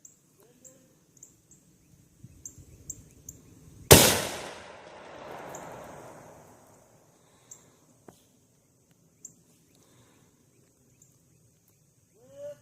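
A single loud gunshot cracks out during ballistics testing at an outdoor range and echoes into a long fading tail, surrounded by quiet background with a few faint clicks.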